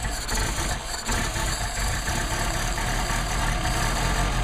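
An engine idles steadily on rebuilt Solex 44PHH carburetors, a loud, close, continuous running drone with a slight waver as the choke sets the idle, and no talking.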